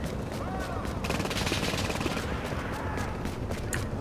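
Automated turret firing in Tom Clancy's The Division, a dense, continuous stream of rapid gunfire lasting several seconds, with scattered louder cracks and a few brief sweeping tones layered over the barrage.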